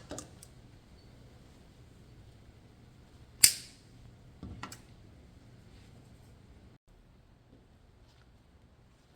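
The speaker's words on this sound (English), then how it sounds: "Now that that's done, I'm going to snip off the zip tie." A single sharp snap as a zip tie is cut off a Christmas tree bow topper, followed a second later by a softer double click, then quiet room tone.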